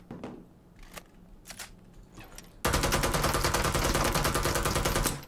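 A UMP submachine gun in the battle-royale game Super People opens up in a sustained automatic burst, loud and continuous for about three seconds after a stretch of quieter in-game clicks and shuffling.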